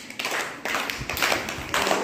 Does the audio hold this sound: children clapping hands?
yes